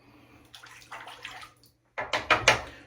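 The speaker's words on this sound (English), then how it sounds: "I got another bowl with some cold water, and that's what I usually do for the cleanup" Cold water in a bowl during shaving cleanup: soft sloshing and splashing in two bursts, a quieter run of ripples, then a brief pause and louder, closer splashes, with no talk.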